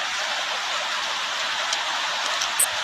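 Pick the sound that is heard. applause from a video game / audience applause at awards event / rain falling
rain falling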